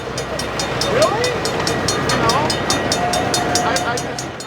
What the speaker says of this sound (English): The park is well known for its 16-inch gauge railroad, the Whiskey River Railway.